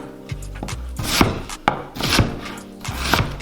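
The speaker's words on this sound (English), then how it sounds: "It's really just some quick rough chops here." Vegetables for beef stew being roughly chopped with a knife on a wooden board, a quick run of loud, close thuds and scraping strokes at an uneven rhythm.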